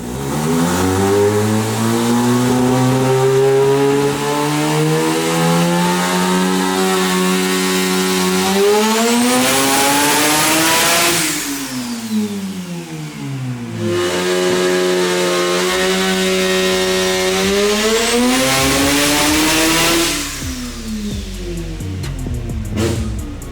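A 1000+ horsepower rotary-engined Mazda RX-7 race car runs on a dyno, making two long, loud full-throttle pulls. Its buzzing engine note climbs steadily in pitch on each run, then drops off sharply before the next.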